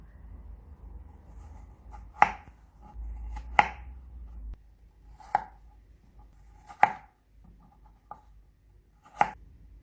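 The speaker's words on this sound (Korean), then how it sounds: "크래커 크기에 맞춰서 사과를 잘라주세요" Apple being cut into cracker-sized pieces on a board, six or seven sharp, separate knife chops spaced a second or two apart, close and distinct against a quiet kitchen background.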